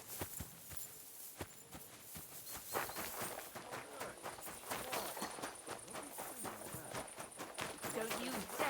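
Horse hooves clip-clop in a steady walking rhythm, close by, with a voice talking over them, in the video game Kingdom Come: Deliverance 2.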